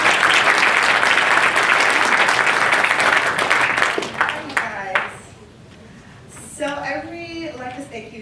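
A meetup audience at a DC Tech event applauds Elizabeth with loud, full clapping that fades out after about four seconds, followed by a few stray claps and then a person speaking.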